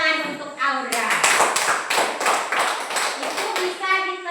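A class of children claps for a classmate, a burst of close, rhythmic hand claps in a steady beat, framed by an adult's voice speaking before and after.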